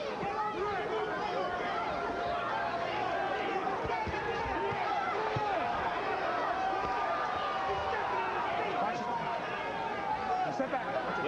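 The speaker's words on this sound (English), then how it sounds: "Crowd gets into it a little bit as the 12th round begins." Boxing arena crowd at a Pernell Whitaker bout stirring as the 12th round opens, a steady dense murmur of chatter and cheering that holds throughout at an even level.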